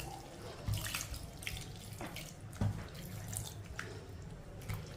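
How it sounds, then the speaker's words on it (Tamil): Water splashes steadily into a cooking pot of greens, a continuous rushing pour with a few louder sloshes, close by with no talking. "கீரை வேகிற அளவுக்கு நம்ம கொஞ்சம் தண்ணி ஊற்றிக்கிறோம்"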